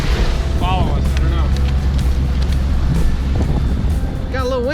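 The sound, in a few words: wind blowing on boat at sea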